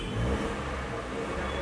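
Suzuki car engine on CNG held at a steady rev with the accelerator pressed, a continuous mid-pitched hum with a slight surge early on, loud and close, no talking.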